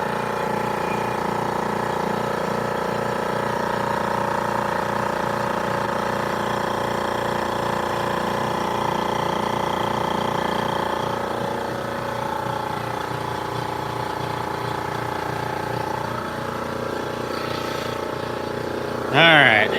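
A cold air compressor runs steadily, its pulsing motor chug building pressure in an even rhythm, loud and close, then quieting slightly before a brief sharp hiss at the end.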